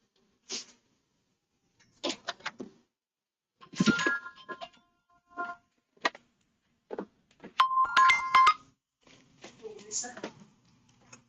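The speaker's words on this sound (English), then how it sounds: "That's my phone. I got my different alarms set for different market times." A phone alarm set for market times rings indoors in short repeated bursts of bright electronic tones, with brief gaps between them, fairly close and clear, ending in a longer tonal burst.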